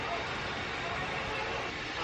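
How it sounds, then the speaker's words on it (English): Steady broadband whirring hum of a Roomba robot vacuum running indoors, constant and moderately quiet with no clear speech over it. "I don't know if you can hear the Roomba going right now"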